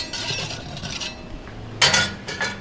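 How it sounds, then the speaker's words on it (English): A utensil scrapes and clinks against a hot pan as bread is flipped and pushed toward the back, giving a few short metallic scrapes with a louder burst near the end, up close and without speech. "That noise is me manipulating the bread."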